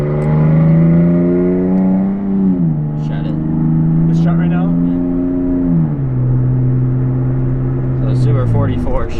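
A straight-piped Toyota Tacoma V6 exhaust idles loudly and close, stepping up in pitch in a couple of smooth revs before settling back to a deep, barking drone, heard alone without talk.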